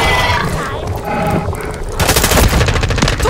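Call of Duty: Modern Warfare III multiplayer gunfire on the Sporeyard map, with a loud, close rapid burst of automatic shots after a stretch of rumbling battle noise and distant pops.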